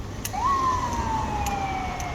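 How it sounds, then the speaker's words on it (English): An ambulance siren sweeps along a street, a single rising then slowly falling wail that stays loud and near over a low traffic hum. "Ambulance now."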